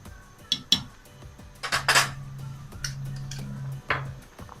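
A spoon stirring butter and rice in a cooking pot, with close clinks and scrapes against the metal at an uneven rhythm and a low hum running underneath.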